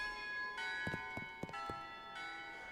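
Cathedral bells ringing in the game Shadows Over Loathing, several sustained metallic tolls with sharp strikes layered over a lingering hum, fairly faint and heard alone without talk.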